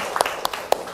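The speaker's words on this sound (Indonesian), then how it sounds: "Tepuk tangan untuk kita semua." Small group applauding in a classroom setting, a handful of sharp, scattered claps in an uneven rhythm over about a second, fairly close and moderately loud.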